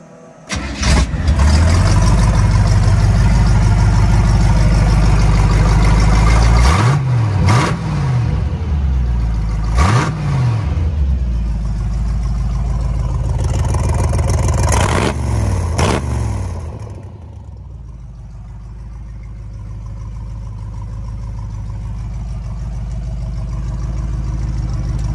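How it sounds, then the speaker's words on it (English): Blown 383 engine in a chopped 1933 Chevrolet rat rod cranks and fires loudly up close, then revs in several sharp bursts over a rough idle before shutting off, leaving a lower fading rumble. "And push button start, turn the fuel pump on."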